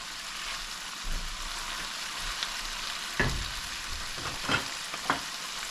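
Okra frying in yellow extra virgin olive oil gives a steady, soft sizzle, with a few louder crackles and pops rising over the hiss and no voices.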